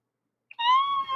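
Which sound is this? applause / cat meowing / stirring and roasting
cat meowing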